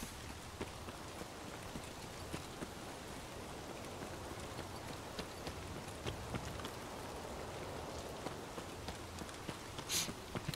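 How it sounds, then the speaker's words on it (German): Steady rain falls in the Escape from Tarkov game world, a soft continuous patter with scattered brief drip-like ticks, heard alone at moderate level with no talking. "Ich will raus aus dem Regen."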